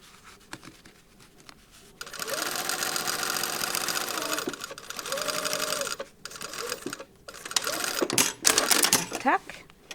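A sewing machine stitches a lapped zipper pocket in several sustained whirring runs separated by pauses, with fabric handling and a voice talking in the gaps.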